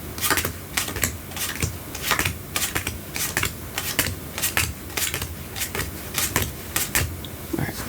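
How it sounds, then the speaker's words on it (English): Playing cards are dealt face down one after another at a steady quick rhythm, each producing a crisp close snap and slide, continuous and intimate in the style of ASMR card magic, with no talking. "I'm just going to start dealing cards down."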